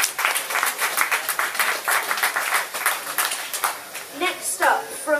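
A small audience at a poetry open-mic night claps for the poet Tim, with distinct, rhythmic clapping from a handful of people that gives way to voices talking near the end.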